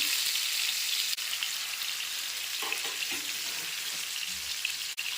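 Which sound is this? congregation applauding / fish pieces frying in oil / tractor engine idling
fish pieces frying in oil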